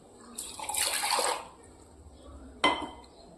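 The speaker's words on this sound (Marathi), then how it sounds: "हे पाणी टाकायचं थोडं" Water splashes and sloshes over a black griddle being scrubbed, a burst of pouring and swishing followed by quiet, then a sharp clatter of metal.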